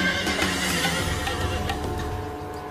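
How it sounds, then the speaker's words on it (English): A horse stuck on a railroad bridge neighs and whinnies continuously, loud and close, with faint hoof clatter beneath the strained calls. "The horse, appropriately named Tuffy, struggles to free herself as her worried owner watches helplessly"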